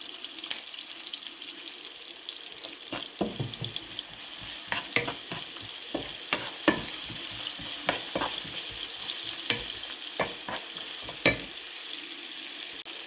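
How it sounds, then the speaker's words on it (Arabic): Chopped onions sizzle softly in a pan over lowered heat while they are salted and wilted for a potato and meat dish, with a spoon scraping and stirring in quick irregular clicks over a steady frying hiss. "هلا بحركه شوي بعد ما حطيته ليدبل مع البصل شوي، مو كتير."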